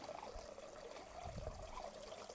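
Water flows steadily out through an opened valve outlet in a bed system, a faint, continuous trickling wash with low gurgling pulses throughout.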